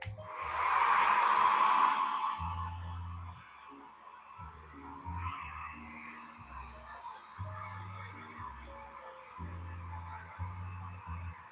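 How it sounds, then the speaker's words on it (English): A hairdryer blows with a steady airy whoosh, loudest at first then quieter, while a low rhythmic music beat runs underneath. "Sorry about the hairdryer."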